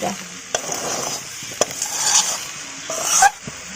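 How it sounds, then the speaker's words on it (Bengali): Raw jackfruit and potatoes fried and stirred on low heat, a soft steady sizzle broken by the scrape and clack of a spoon against the pan, near and moderately loud, with no talking. "এই ইঁচড়টা আমার কষানো হয়ে গেছে, খুব ধীরে আঁচে ভাজতে হবে"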